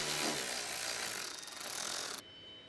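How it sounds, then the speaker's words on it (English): An electric ratchet wrench with a Phillips bit backs out the fan mounting bolts while a 2007-2018 Jeep Wrangler JK radiator is replaced; a dense, close whirring buzz runs for about two seconds, then cuts off abruptly. "Use a Phillips bit with an electric ratchet wrench to remove the fan mounting bolts."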